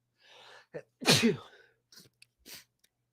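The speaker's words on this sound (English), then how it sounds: "That was an intense sneeze." One loud, intense human sneeze, with a short sharp intake of breath before it and faint small sounds after, heard close up in an otherwise quiet room.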